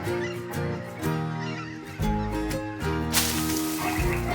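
A flock of farmyard geese, including a white one, honks in loud repeated bursts, the calls overlapping and pulsing over a constant rumble of background noise, with no voices.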